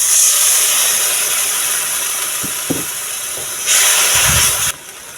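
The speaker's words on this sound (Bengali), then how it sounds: "এবার এখানে বাটি ধোয়া জলটা দিয়ে দেবো।" Water used to rinse a bowl is poured into a hot pan holding yogurt for a village-style mustard egg curry, giving a loud steady hiss that swells briefly near the end and then drops away, with no talking.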